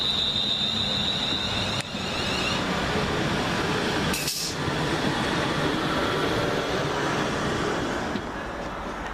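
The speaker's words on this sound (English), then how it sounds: "Just coming around that corner is the 1322 Arriva Trains Wales service" An Arriva Trains Wales passenger service from Holyhead rolls through Smethwick Galton Bridge station as a steady, loud rumble of wheels and motors that holds for the whole stretch, with a brief hiss partway through.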